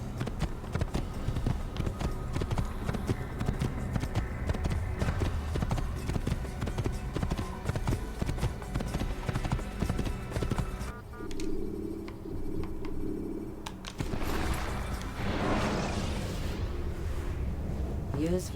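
Continuous horse galloping hoofbeats in an Assassin's Creed game, loud and steady with a rapid clip-clop rhythm, briefly thinning out mid-ride before resuming.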